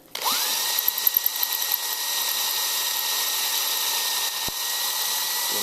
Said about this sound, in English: So the next step is to trim it.